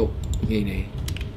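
Someone types on a computer keyboard while building a music track, producing a short burst of light clicks under a voice.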